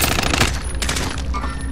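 Sustained automatic gunfire from the video game Call of Duty: Modern Warfare, dense and loud, with rapid overlapping bursts rattling continuously throughout.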